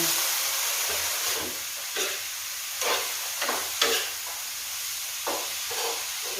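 Sliced bitter gourd (ampalaya) fries in a pan with a soft steady sizzle and hiss, broken by several short stirring scrapes, all fairly faint and close.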